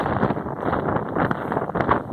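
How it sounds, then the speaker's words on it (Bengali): Strong wind roars steadily and buffets the microphone in constant gusts near the Twin Towers, with no speech. "অনেক হাওয়া বাতাস"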